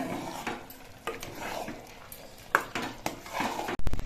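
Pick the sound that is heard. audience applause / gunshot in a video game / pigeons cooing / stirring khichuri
stirring khichuri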